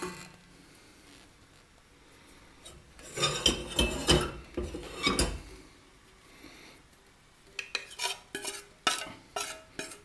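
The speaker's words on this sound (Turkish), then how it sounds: "Erimiş olan çikolatamızı karışımımızın içine yavaş yavaş ilave ediyoruz." Melted chocolate being stirred into cookie dough, close, irregular scraping and squelching strokes in bursts with quiet pauses between, ending in a run of quick short scrapes.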